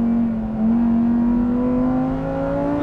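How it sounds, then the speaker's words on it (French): A Lamborghini Huracán STO's naturally aspirated V10 rises in pitch as it revs on a circuit, a loud, close, continuous engine tone that climbs steadily and holds without any talk. "Le meilleur exemple restant le moteur, vraiment c'est du dosage au cheval près. Ce V10 Atmo là"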